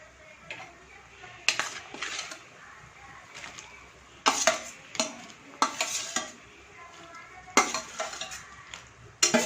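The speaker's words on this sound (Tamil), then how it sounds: "இப்போ நம்ம ஃப்ரை பண்ணியிருக்க வெண்டைக்காயை இதில் போட்டுடலாம்" Fried okra tumbles into bubbling tamarind gravy and gets stirred, a run of sharp spoon scrapes and clanks against the pot in irregular bursts over a low simmering sizzle.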